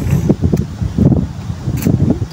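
Gusty wind without rain in Lopez, Quezon Province, buffeting the microphone in low, surging rumbles that rise and fall in several waves, with a steady hiss underneath.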